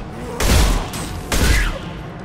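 Two loud, close bursts of rapid gunfire from the Mass Effect 2 video game, each lasting about half a second with a short gap between them.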